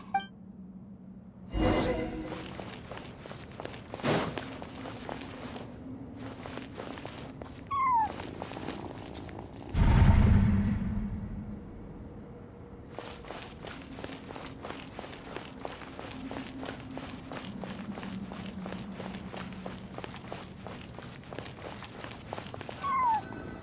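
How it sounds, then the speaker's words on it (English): A cat in Genshin Impact gives occasional meows over game sounds, with footsteps running in rhythmic bursts, a louder rushing swell midway, and quiet stretches between. "I followed the cat's cries to find my way out"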